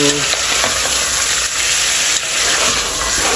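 Chicken frying in a pan for a chicken and taro root (arvi) curry, a loud, continuous sizzle with stirring scrapes throughout and no voices.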